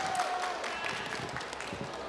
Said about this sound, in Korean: 다시 한번 발표해 주신 우리 세 분의 발표자님께 큰 박수 부탁드리겠습니다.